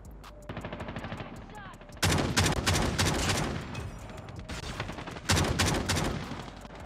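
Rapid shotgun blasts and gunfire in a Call of Duty Mobile match, loud bursts in clusters with a heavy blast near two seconds and another volley near five seconds, over constant game background noise.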